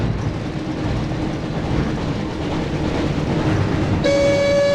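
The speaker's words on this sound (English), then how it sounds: "Looks like we found the train, Ron." Train rumbling steadily through a tunnel in the Harry Potter Chamber of Secrets video game, a dense continuous roar with a horn-like tone sounding near the end.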